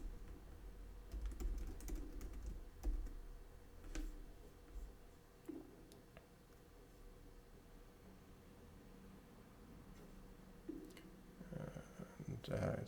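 Typing on a computer keyboard while entering a restore password to join a domain, soft scattered clicks in short bursts with quiet gaps, close and fairly faint, and a few brief murmurs of a voice in the background.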